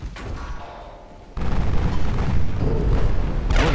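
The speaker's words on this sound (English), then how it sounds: "We're going to take another torpedo." A torpedo slams into a warship in the naval battle game Ultimate Admiral: Dreadnoughts, a sudden loud deep boom that swells into a sustained rumbling roar, with a fresh hiss of spray near the end.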